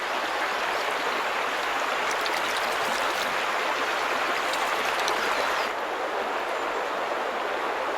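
Rushing shallow rapids of a salmon river pour loudly and steadily as a dense broadband wash of water, continuous throughout with a slight drop in intensity near the end.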